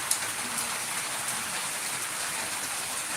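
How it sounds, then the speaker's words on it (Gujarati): Unseasonal rain falls steadily in Jambughoda, a soft, even hiss of drops on surfaces with no voices, continuous and moderately quiet throughout. "વરસાદ વરસી રહ્યો છે"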